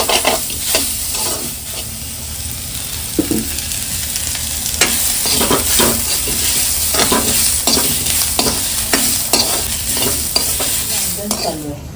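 Onions fry in oil while being stirred for a mori fish (shark) recipe, with loud, close, rhythmic scraping strokes repeating every second or so over a continuous sizzle and no talking.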